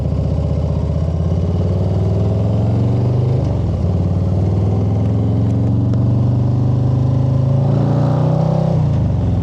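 A 2025 Harley-Davidson Low Rider ST cruiser's high-output engine rumbles close by in a quiet parking lot, revving up and down with deep throaty pulses that rise in pitch and then settle.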